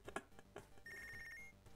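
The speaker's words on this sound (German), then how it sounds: "Oh, Telefon." A telephone rings once in a continuous electronic tone during the video game Punch Club, following a few brief clicks and game sounds, moderately loud with no voices.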